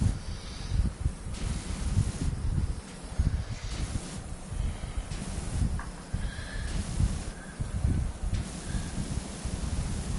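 Power washer spraying in the game Power Wash Simulator with a stone cleaner nozzle, a steady broadband hiss that keeps cutting in and out in short bursts, close and moderately loud with no talking.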